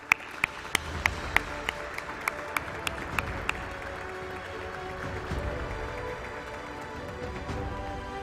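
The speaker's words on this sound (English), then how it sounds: "Round of applause." Scattered sharp claps ring out at a virtual employee recognition ceremony for MARTA customer service staff. They give way to softer, diffuse applause and faint crowd murmur underneath.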